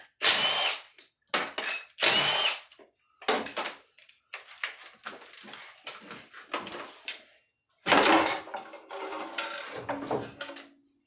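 A power tool drives bolts into a fresh valve cover on an AWD EM2 Honda Civic, sounding in several sharp, loud bursts separated by brief pauses, with lighter ratcheting and handling noises between them.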